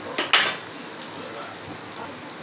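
Cooked green gram dropped into hot ghee in a kadai, a brief clatter and sharp burst of sizzle at the start settling into a softer steady frying hiss.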